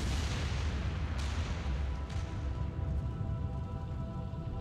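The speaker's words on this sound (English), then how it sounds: "The biggest explosion of all time." A comet striking Earth erupts in a huge explosion, a dense, loud, sustained roar of rumbling noise that fills the whole span without letting up.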